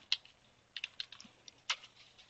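Fairly quiet computer keyboard typing while entering a MySQL command on a CentOS machine, a handful of separate, crisp key clicks spread irregularly across about two seconds, close up and with no talk.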